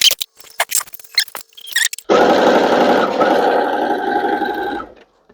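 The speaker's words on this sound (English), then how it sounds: "I'm going to go ahead and sew 1/4 of an inch down this edge real quick." Sewing machine stitching a quarter-inch seam joining memory quilt blocks with interfacing, a steady close whirring run of about three seconds after a few brief clicks and handling sounds.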